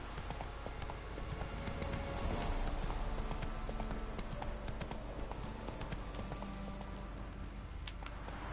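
Hooves of a horse in the video game The Witcher 3 clip-clop at a steady gallop throughout, a dense rhythmic beat that stays fairly even in loudness.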